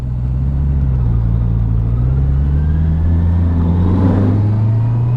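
A 2021 Honda CB650R motorcycle filters through traffic, its engine a loud, close, steady rumble with gentle rises and falls in revs as the rider weaves between cars.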